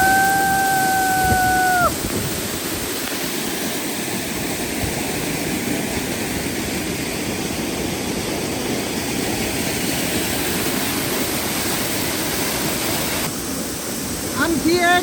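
Waterfall in a Maval jungle heard from behind, a loud, steady roar of rushing water that fills the scene from start to finish, with a brief tonal whistle near the beginning.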